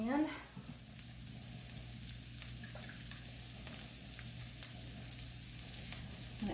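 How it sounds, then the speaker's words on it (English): Tomato paste sizzling in a hot pan for shepherd's or cottage pie, a soft steady frying hiss with faint stirring ticks, fairly quiet and close. "I'm going to add like 2 tablespoons tomato paste"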